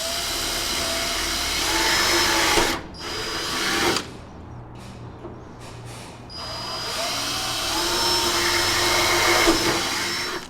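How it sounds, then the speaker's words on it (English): A drill fitted with a stopper bit bores holes for hood strut rivets on a second-generation Toyota Tacoma, loud high whirring in two long bursts separated by a quieter gap with brief clatter. "we'll use the exact same drill bit with the stopper on it"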